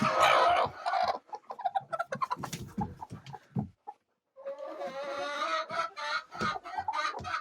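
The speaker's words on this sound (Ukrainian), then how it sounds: "всі квокчуть" Young laying hens cluck and murmur close by in a coop as they settle on nests, with scattered soft clucks, a short pause, then a denser stretch of overlapping calls.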